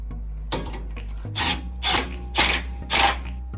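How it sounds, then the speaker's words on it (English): Power tool spinning nuts off the bolts of a Cali Raised catalytic converter protector on a third-generation Toyota Tacoma, in four short whirring bursts that rise and stop, close up. "You just want to take the nuts off."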